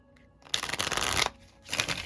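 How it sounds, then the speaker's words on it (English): A deck of tarot cards is riffled close by in a quiet room, two quick bursts of crisp, fluttering shuffling separated by a short pause. "Okay, let me shuffle."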